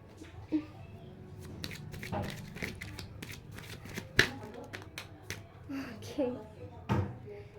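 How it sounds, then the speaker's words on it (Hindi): Guidance cards for a candle wax reading are shuffled and drawn by hand: a run of soft, papery riffles and sharp flicks with irregular pauses, close and fairly quiet. "हमारे गाइडेंस कार्ड्स क्या कहते हैं वो निकालते हैं हम लोग"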